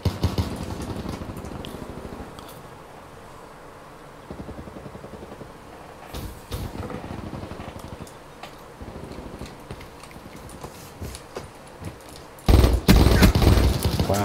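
Pistol and other gunfire in Black Ops 3, scattered sharp shots over a low game-engine hum and rapid ticking, ending in a louder, denser volley near the close.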